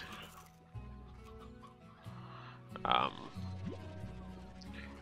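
Chickens cluck in the video game Slime Rancher, a run of close, bursty clucks over layered game background sounds.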